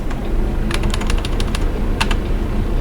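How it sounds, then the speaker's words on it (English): Computer keyboard typing during an American Truck Simulator session, a steady bed of clicky keystrokes with short bursts of rapid clacks, close and fairly loud with no talking. "Sorry if the clickety-clacketing of my keyboard has gotten annoying."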